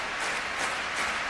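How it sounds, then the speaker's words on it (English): A stadium crowd claps steadily for the Georgian kicker Kvirikashvili during a Rugby World Cup 2007 match between France and Georgia, a brief, dense, even wash of applause. "The clapping is more in support of Kvirikashvili than anything else"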